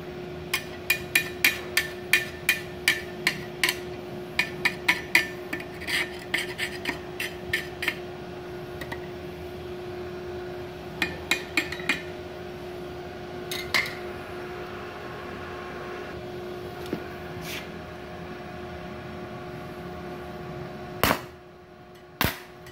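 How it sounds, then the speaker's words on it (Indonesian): An EG 300AA arc welding machine set to 300 amps crackles and snaps in sharp irregular pops over a steady electrical hum, the bursts dense at first and then thinning out, close and fairly loud. "Kita coba mengelas dengan posisi atmos 0"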